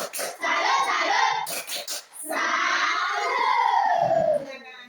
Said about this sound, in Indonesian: Kita berikan tepuk salut buat kelompok 2.